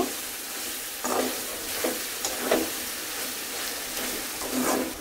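Beef tripe curry with onions sizzling steadily in a pan, with a loud frying hiss throughout and repeated bursts of scraping as the mixture is stirred, no voices.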